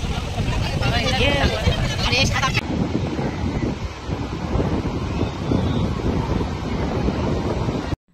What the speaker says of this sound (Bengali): এখন জোরে জোরে ঢেউ আসছে বাবা।